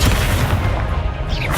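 Confringo blasting spell explosions in the Hogwarts Legacy video game, a loud, dense rumbling burst of booms sustained throughout with no pause.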